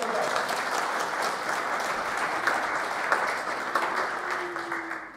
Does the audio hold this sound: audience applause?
yes